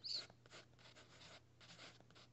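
The back of a pencil traces over paper in soft, scratchy strokes, quiet and very close, in a series of short repeated scrapes.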